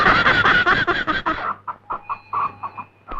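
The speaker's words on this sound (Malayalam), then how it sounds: "ഇത് കാശ് കൊടുത്ത് മേടിച്ച കോഴിയാണ് കേട്ടാ" A chicken clucking close by, a quick series of sharp, loud clucks followed by shorter broken squawks, with a faint whistle-like tone in the background.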